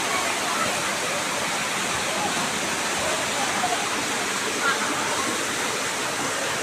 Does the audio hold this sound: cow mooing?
no